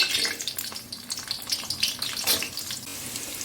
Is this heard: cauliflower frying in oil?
yes